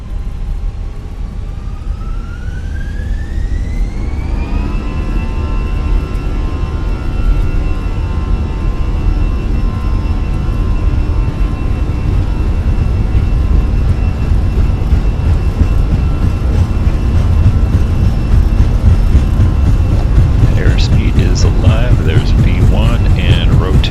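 Airbus A320 jet engines spooling up to takeoff thrust in Microsoft Flight Simulator, departing Marseille: a rising whine that levels into a steady high tone over a loud, constant broadband roar lasting the whole stretch.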